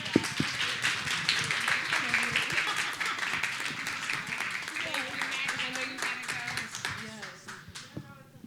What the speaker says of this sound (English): So let's give this panel a round of applause.